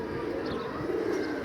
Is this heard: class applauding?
no